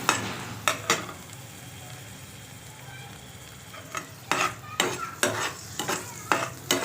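Cubed potatoes sautéed in a pan with green chili, giving a soft steady sizzle broken by sharp, repeated scrapes and clinks of a spatula stirring against the pan, with no talk.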